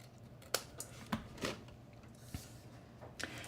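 Scissors snip paper while mitering corners and tabs on a circle-handle gift bag, giving several short, crisp cuts spaced irregularly against a low steady hum, fairly close and quiet.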